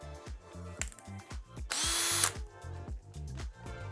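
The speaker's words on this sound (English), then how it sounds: "Right, so I just need to put the pocket holes in now." Power drill boring pocket holes in wood, a series of short whirring revs repeating rapidly, then a longer, louder sustained drilling burst in the middle, close up and without talk.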